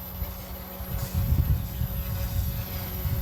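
Radio-controlled SAB Goblin 570 helicopter flying outdoors, a thin steady rotor whine and buzzing hum at moderate distance with gusty low rumble, no voices.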